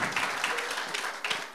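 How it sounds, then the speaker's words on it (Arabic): Audience applause in a studio during a televised regional talent show's first prime, a dense wash of clapping that stays fairly steady and moderately loud with slight swells, no clear talk on top. "صفقوا لي بحراره"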